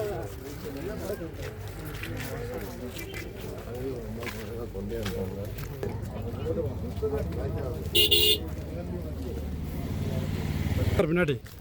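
A vehicle comes up from behind on a road during a trip in Munnar, sounding its horn in a brief high toot near the end, over a steady rumble of engine and road noise with people talking throughout.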